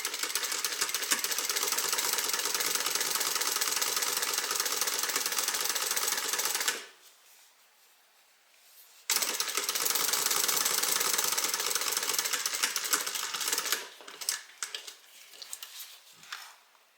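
A sewing machine runs steadily, top stitching a bag pocket, with a continuous loud motor whir that stops for about two seconds and then resumes before fading into scattered lighter stitching bursts.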